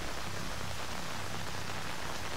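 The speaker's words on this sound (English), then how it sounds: "when you travel outside, the full rain ambience comes back in" Outdoor rain ambience from the video game level "Cornered" plays as a dense, loud, continuous wash of rainfall on surfaces, with no talking.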